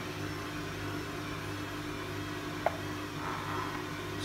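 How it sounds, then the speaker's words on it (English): A household washing machine runs in the background as a steady, even droning hum with a broad hiss that holds for the whole stretch, with a single brief click partway through. "Sorry about the noise, the washing machine's on."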